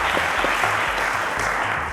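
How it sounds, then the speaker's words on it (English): A studio audience at the Cowbellpedia televised quiz show applauds a contestant with steady, dense clapping throughout, while a low musical hum runs underneath. "A round of applause to her, ladies and gentlemen."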